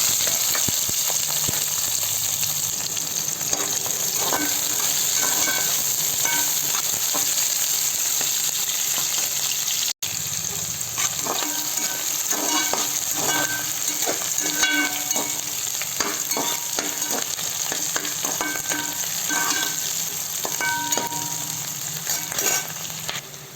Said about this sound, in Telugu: ఆయిల్ కాగినాక ఇవన్నీ వేసుకోవాలి. అదే ఈ ఎర్రగడ్డలు, పచ్చిమిర్చి అవన్నీ వేసుకోవాలి.